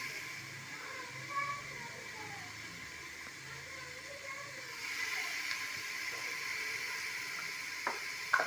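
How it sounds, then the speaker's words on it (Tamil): Browned onions and ginger garlic paste fry in a pan for vegetable biryani, giving a soft, steady sizzle with occasional stirring clinks, fairly quiet, with faint talk in the background. "ப்ரௌன் கலராக ஆற வரைக்கும் வதக்கணும்"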